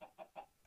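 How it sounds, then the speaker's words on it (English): Chicken clucking in Minecraft, three short clucks in a quick, even rhythm, fairly faint, with no talking over them. "oh, chicken, I can actually kill you now"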